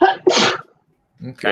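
Sneezes burst out during a tabletop role-playing game session, two quick loud bursts at the start, a short silence, then a voice speaks briefly.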